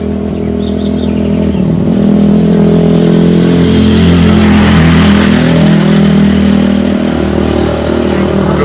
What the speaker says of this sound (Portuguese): Vamos esperar a moto passar porque faz muito barulho